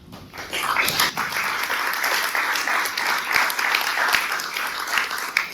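An audience at a mayoral candidate forum for the Torrance Chamber of Commerce breaks into steady, close applause, a dense clatter of many hands that swells quickly and keeps going for several seconds.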